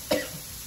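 A single short, sharp cough, close by, triggered by cayenne pepper while cooking, followed by quiet.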